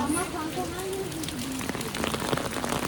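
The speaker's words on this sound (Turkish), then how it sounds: "Ve şırıl şırıl yağmur." Steady pouring rain patters densely on surfaces outdoors, a continuous hiss with scattered drop ticks and a faint tonal hum beneath.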